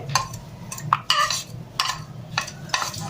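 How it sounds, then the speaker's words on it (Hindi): A spoon stirs tomato, onion, coriander and cumin together in a bowl, giving a series of close, scraping and clinking strokes in an uneven rhythm with short gaps between them. "टमाटर प्याज धनिया सारिया चीज़ा मिक्स करके"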